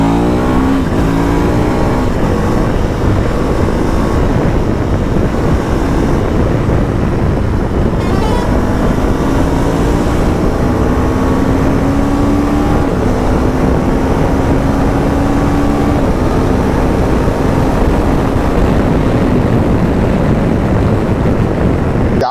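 A KTM 390 Adventure motorcycle engine with ride-by-wire throttle runs loud and close, its steady drone rising and falling as the throttle is worked over more than twenty seconds, with no talk.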